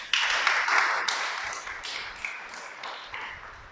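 Audience applause during a Torah teaching, with a burst of clapping from a modest group that fades gradually over a few seconds.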